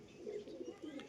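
Teddy pigeon cooing in soft, repeated low burbles, close by and fairly faint, with no talking.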